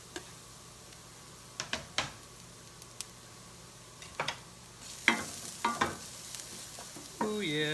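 Garlic drops into hot olive oil with browned shallots in a pan, and scattered crackling pops and stirring clicks rise over a quiet sizzle, growing busier and louder toward the end.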